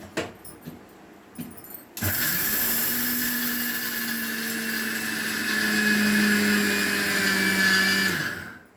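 Mixer grinder pulverizing roasted cashews, peanuts, sesame seeds and mung beans, starting after a few light clinks with a loud steady motor whine and rattling blades that holds for about seven seconds before stopping.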